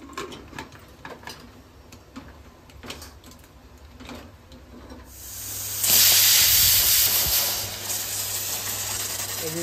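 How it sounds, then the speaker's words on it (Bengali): A pressure cooker cooking sambar lets out a loud steam whistle that bursts in about halfway through and keeps hissing steadily to the end, after quieter kitchen sounds. "সিটি মারলো এরকম সিটি তিন চারটে মেরে আমি নামিয়ে নেবো"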